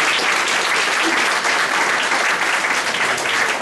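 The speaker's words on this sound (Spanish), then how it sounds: "Quería pedir un aplauso para ellos." Steady, dense applause from an audience at a talk on limits to mining expansion, filling the space evenly and loudly with no pause.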